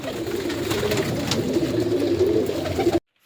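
Flock of pigeons in a Lahore pigeon-breeding setup, cooing in a steady low murmur that runs without a break for about three seconds, fairly close, with no talk over it.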